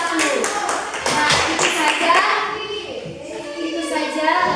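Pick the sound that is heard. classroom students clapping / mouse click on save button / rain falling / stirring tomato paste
classroom students clapping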